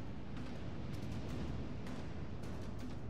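Enemy warship guns fire in World of Warships Legends, a dense stretch of overlapping booming blasts and rumbling bursts that keeps up without letup for a few seconds, loud and near, with no voices.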